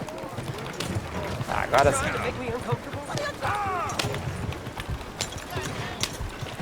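A horse gallops in the Red Dead video game, its steady clip-clop of hooves running beneath someone talking over the game sound.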